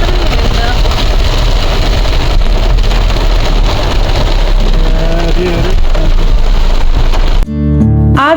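Heavy mountain monsoon rain in Chamba pours and patters steadily on a surface, with a low vehicle engine rumbling underneath, then cuts off abruptly near the end.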